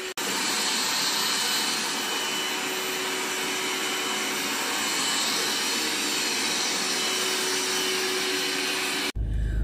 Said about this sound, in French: j'ai lancé l'aspirateur